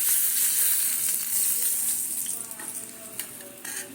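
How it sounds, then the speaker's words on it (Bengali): Sona puti fish sizzle lightly in hot oil with a close, steady hiss that eases off slightly partway through, with a few small pops and stirring sounds near the end. "ভাজা খেলে আরও কড়া করতাম কিন্তু হালকা করে ভেজে নেব"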